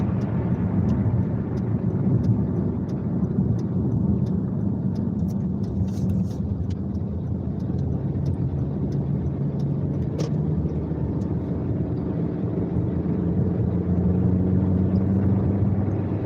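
Steady road and engine rumble from inside a car driving home in late daylight, a continuous low drone with no talk throughout.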